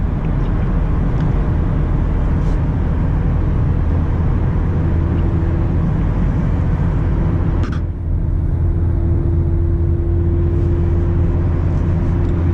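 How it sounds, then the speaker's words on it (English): Low steady engine and road rumble from a Mazda MX-5 ND in sixth gear accelerating from 100 to 120 km/h, a constant loud drone with a rising tonal hum and one brief dip midway, no talk. "I'll accelerate on 120 or 100 to 120 kilometers per hour"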